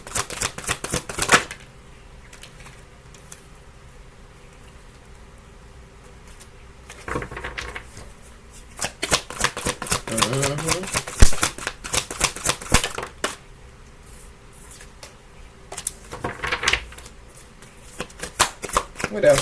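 Oracle cards being shuffled in bursts of quick, close riffling and flapping, with quiet gaps between, and a person talking at times.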